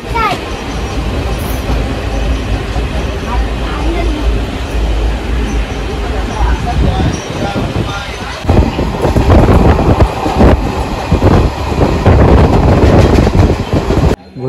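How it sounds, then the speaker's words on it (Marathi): Dadar Savantwadi Tutari Express train on the Konkan Railway at a platform in the rain, with a steady rumble and rattling carriage noise, wind buffeting the microphone and a rise in clattering intensity partway through. "Train number 1103 Dadar Savantwadi Tutari Express has arrived on"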